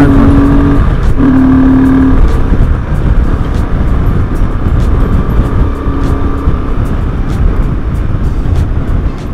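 A motorcycle rides along a Himalayan mountain road, its engine droning steadily and up close with brief shifts in pitch over continuous wind rush, no voices.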